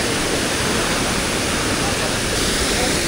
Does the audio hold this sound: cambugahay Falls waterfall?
yes